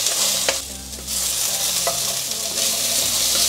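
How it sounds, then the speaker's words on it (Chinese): Taro pan-frying in a wok with carrot, spread flat to brown: a steady close sizzle fills the whole stretch, with a few clanks and stirring scrapes of the spatula. "让它稍微煎一下，"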